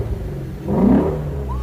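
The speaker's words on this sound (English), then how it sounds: "let's just take one more moment to hear that exhaust" A Ford Mustang Shelby GT350 in sport mode gives a single quick exhaust rev that swells and fades in about a second, moderately loud and heard alone.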